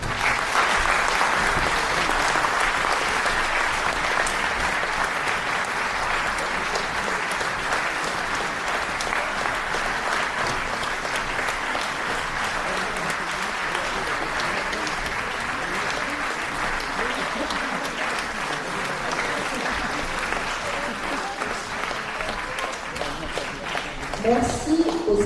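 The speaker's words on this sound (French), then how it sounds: "Et on vous applaudit encore" An audience at a French religious show and pilgrimage spectacle applauds in a long, sustained burst, with dense, steady clapping from a crowd that fades slightly near the end.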